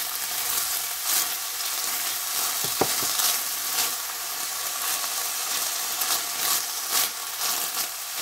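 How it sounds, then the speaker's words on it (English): Canned beans frying in a hot pan as they are stirred, a steady close sizzle and hiss with scraping stirs and a few clicks of the utensil throughout. "I'm going to go ahead and automatically start adding our beans into our pan"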